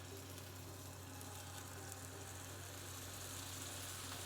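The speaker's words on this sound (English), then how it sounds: "When searing steak, you're gonna put it into the pan gently, away from you." Steady, continuous sizzling and crackling of steak searing in a hot oiled pan, close and fairly loud with no talking.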